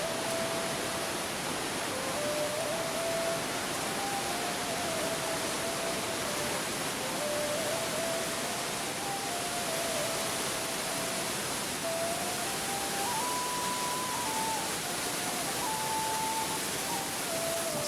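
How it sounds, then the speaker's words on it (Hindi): A mountain waterfall on a Himalayan trek roars with steady, dense broadband rushing, loud and continuous throughout, with a faint wavering tone running through it. "झरना झरझर झर रहा है।"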